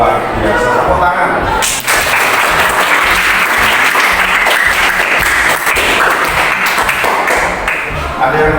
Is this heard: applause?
yes